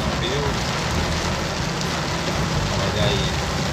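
Heavy rain falling in the city of Caruaru, a dense, continuous roar of water close by, loud and unbroken throughout.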